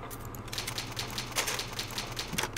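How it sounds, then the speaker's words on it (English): Typewriter save sound in the Resident Evil video game: a steady run of crisp mechanical key clacks and strikes, evenly paced and fairly loud, over a low background hum. "Typewriter, save your progress."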